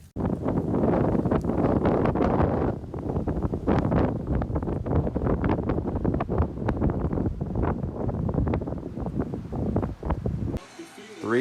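Cold wind blowing outdoors buffets the microphone in loud, gusty rumbles for about ten seconds before cutting to another scene with a faint voice.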